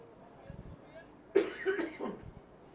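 One harsh cough with throat clearing breaks through quiet background talk, close and brief.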